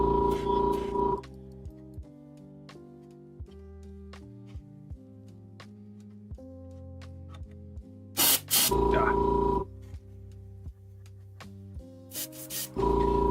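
An inexpensive airbrush sprays in short hissing bursts, loud and close, with a few spits and pauses between them, over low background hum and faint clicks.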